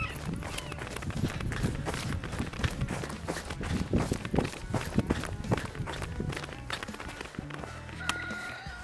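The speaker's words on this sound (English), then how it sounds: "we're gonna go for a quick run down this path" Running footsteps on an outdoor path, steady rapid thuds close to a handheld Canon PowerShot ELPH 360 HS camera, with jostling and rustle throughout.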